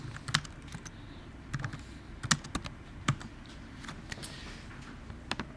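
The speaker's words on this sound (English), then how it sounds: "I'm just going to type this out and explain it." Computer keyboard keys typed in uneven bursts while entering code, with close, crisp clicks and short pauses between runs and no speech.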